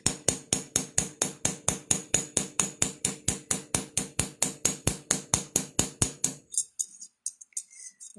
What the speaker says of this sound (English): I'm gonna use the embossing hammer to deckle the edges